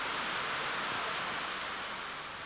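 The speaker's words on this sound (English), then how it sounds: "Monsoon has come to the desert, torrential rain to a town desperate for water." Torrential monsoon rain falling in a desert town, a dense, continuous roaring hiss heard alone, fading slightly toward the end.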